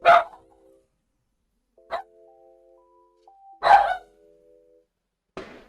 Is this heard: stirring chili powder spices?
no